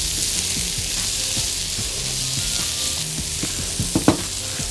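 Mushrooms with a pinch of salt sizzle steadily in a pan, a continuous frying hiss with soft scraping stirs and a few louder clatters near the end.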